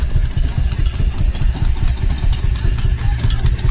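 A diesel vehicle engine idles steadily at an outdoor wings-and-wheels show, with a low, continuous rumble and faint clatter that holds evenly throughout at close range.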